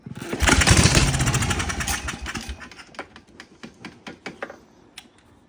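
A Coleman minibike engine with an untuned carburetor is pull-started: a loud burst of engine sputter and revving fades over a couple of seconds, then breaks into irregular popping and clicking as it struggles.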